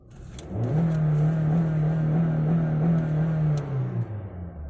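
A 2020 Honda City BS6 ZX with a VTEC petrol engine revs up and holds a steady, loud, sporty drone for several seconds before easing off, with no talking over it.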